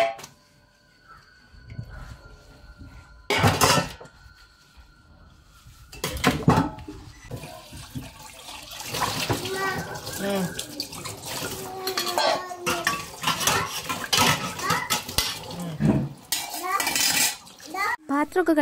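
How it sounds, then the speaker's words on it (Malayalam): Dishes being washed at a kitchen sink under running water, with pots and cutlery clattering in bursts over a steady wash of flow, while a voice chatters nearby. "പിന്നെ നേരെ കയറിയതാണ് പാത്രം കഴുകാനായിട്ട്. അപ്പോൾ കുറച്ചധികം പാത്രങ്ങൾ തന്നെ ഇന്ന് കഴുകി വൃത്തിയാക്കാനുണ്ട്."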